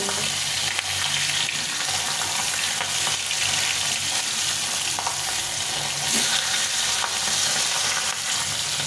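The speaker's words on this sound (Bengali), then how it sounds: "এই করে সবগুলো মাছ উল্টে দিয়ে ভেজে নেব।" Pabda fish sizzle steadily in hot oil after being flipped, a dense continuous crackle with occasional stirring and clinks, moderately loud and close throughout with no talking.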